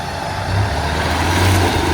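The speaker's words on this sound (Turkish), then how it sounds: "Evet şimdi Oğuz gaz ver" A heavy off-road vehicle engine drones and revs steadily up close, a low, rumbling motor working under load while pulling a stuck, sunken vehicle free during a winch recovery.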